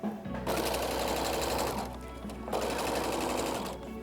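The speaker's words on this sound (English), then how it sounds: "I'm really just using a straight stitch, which all sewing machines do." A sewing machine runs a straight stitch through denim jeans in two long, loud bursts of steady rapid whirring, with a short slowdown between them.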